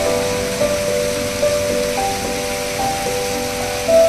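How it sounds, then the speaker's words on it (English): Artificial waterfall in a large hotel lobby gives a steady wash of falling water, with faint tonal hum and soft chimes or background tones layered over it at moderate, even loudness. "You can see the artificial waterfall."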